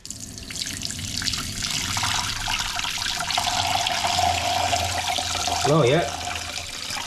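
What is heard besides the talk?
hot water running from tap in motorhome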